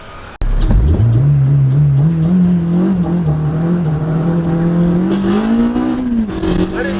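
A Honda Civic Si with freshly installed brakes and a new rear sway bar accelerates hard on a test drive, its engine note climbing steadily and loud throughout with a brief pitch drop near the end.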